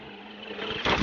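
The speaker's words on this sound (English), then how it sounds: "we hear this Judd V10 power unit fire up" A Judd V10 race engine in a classic car at Daytona International Speedway fires up, a low cranking rumble building over about a second into a sudden louder catch as it starts.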